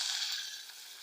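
Rice sizzling as it fries in a pot with vermicelli already browned in oil, a steady, close hiss lasting about a second with no voices.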